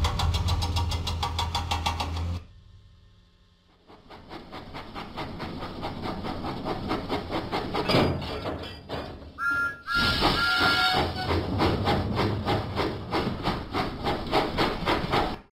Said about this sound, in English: Huffing and puffing, Thomas set out for the fair.